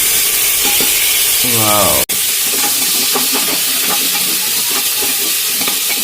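Biryani masala stirred and frying in a pan for parda biryani, a dense, close sizzle with scraping stirs throughout, a brief voiced exclamation early on and a momentary cut just after two seconds.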